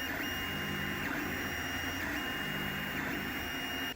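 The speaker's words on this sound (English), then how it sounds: "This is what each layer that it's gonna print looks like that. Builds it up layer by layer." A 3D printer printing a part for a lathe chip guard tray, with a continuous whirring motor drone and recurring high whining stepper sweeps, steady and close, no voices.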